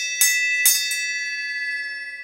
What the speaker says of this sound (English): So ring the bell, would you please?